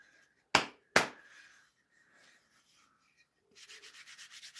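Wooden mallet being hand-sanded between grits after an 80-grit pass, with two sharp knocks near the start, soft rubbing scrapes through the middle, then a run of steady rhythmic sanding strokes at the end.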